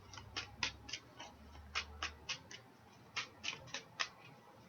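Tarot cards are drawn from a deck, giving a quiet, close run of crisp snapping flicks and ticks in irregular bursts, about a dozen clicks over a faint background.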